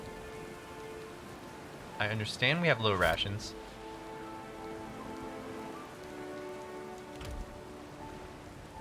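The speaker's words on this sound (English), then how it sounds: "rain pours from the sky as if the Defiant had come to rest beneath a waterfall" Heavy rain pouring in the video game Pillars of Eternity II: Deadfire, a constant hiss of downpour underneath a brief spoken line, with a low thump later on.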